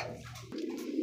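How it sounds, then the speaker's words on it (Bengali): A racer pigeon gives a brief, soft coo, a low murmuring call heard close and alone. "দেখতে পাচ্ছি চমৎকার আরো একজন কিন্তু রেসার কবুতর"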